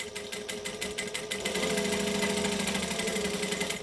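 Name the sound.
sewing machine back stitching and forward stitching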